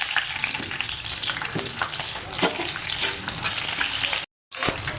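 Chopped onions frying in refined oil in a wok, a loud continuous sizzle with stirring scrapes and clatter, cut by a brief silent gap near the end.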